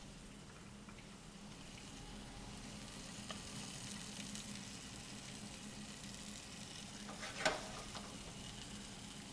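Squash frying in a hot pan, a soft continuous sizzle with light stirring scrapes and one brief clatter near the end, quiet and close, no talking.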